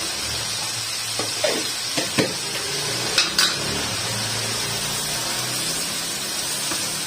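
Half a teaspoon of garlic-ginger paste cooks in a pan for an egg masala curry, a steady soft sizzle running throughout with several sharp clinks of a utensil against the pan near the middle, no voices.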